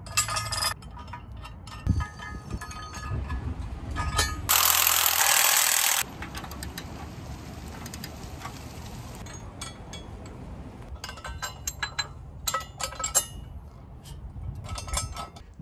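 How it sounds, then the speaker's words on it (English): Bolts being tightened on an OBS Ford truck coil and 4-link conversion: scattered metallic clinks and ratcheting clicks, broken by one steady burst of power tool whine lasting about a second and a half. "When you tighten up these bolts on each side, the passenger side and the driver's side, try to do it evenly."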